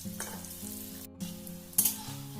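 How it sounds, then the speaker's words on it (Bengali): Jackfruit koftas fry in oil over a medium flame, a soft continuous sizzle broken by a few gentle stirring knocks and clinks, quiet and close with no voices. "কোপ্তাগুলো মিডিয়াম ফ্লেমে হালকা হাতে নাড়াচাড়া করে ভেজে নিচ্ছি"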